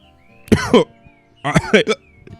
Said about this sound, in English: I did like a half cough and it gave myself the hiccups